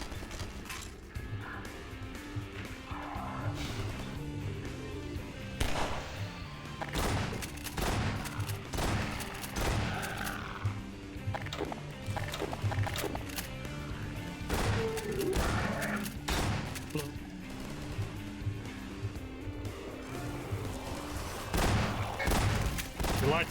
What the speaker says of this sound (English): Not only are shotguns terrific for zombie hunting, their size and ponderous handling capabilities make for some great combat animations.